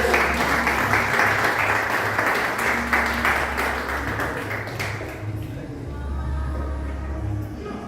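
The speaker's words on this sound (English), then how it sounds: "Give them a round of applause" A crowd in Kingston, Jamaica applauds a speaker called to the stage, with loud, sustained, dense clapping that tapers slightly near the end.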